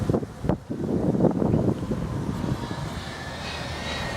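Steady wind roars and buffets the microphone outdoors among Halloween yard decorations, a rumbling gusty wash that continues throughout with a sharp knock near the start.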